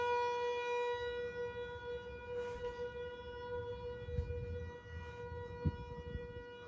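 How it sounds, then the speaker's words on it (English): Outdoor tornado warning sirens wail steadily during a storm, a sustained droning tone heard at a distance under low rumbling background noise. "Now they turned on back again."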